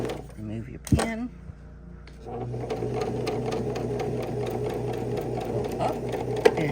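A sewing machine stitches a purse, running in a steady, even buzz of rapid stitches after a brief pause, with a voice talking and a few handling clunks at the start.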